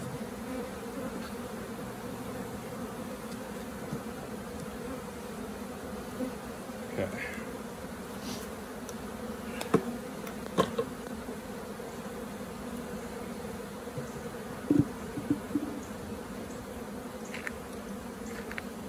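A steady, dense buzzing of a honeybee swarm being transferred into a hive, with occasional soft clicks and knocks nearby.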